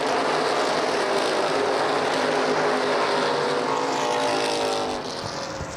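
CRA street stock cars racing at Lucas Oil Raceway in Indianapolis, a loud, continuous roar of engines passing close and then easing slightly as the pack moves on.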